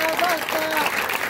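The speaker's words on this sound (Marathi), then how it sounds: "सर्वांनी टाळ्या वाजून स्वागत करा" An audience claps at a Bhim Jayanti gathering in Karegaon, Parbhani, the dense steady applause running through the whole moment while a voice carries on over it.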